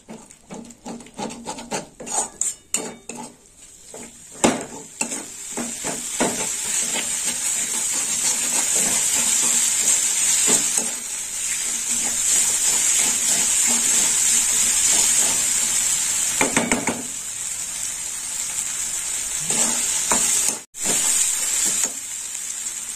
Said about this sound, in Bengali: দিয়ে দিলাম দুটো কাঁচা লঙ্কা চেরা। একটু কষে নেবো।